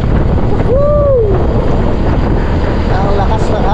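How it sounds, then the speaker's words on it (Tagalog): Strong wind blasts loud and continuous across the microphone as a heavy, unbroken roar, with a brief rising and falling vocal-like tone near the start. "Ang lakas ng hangin."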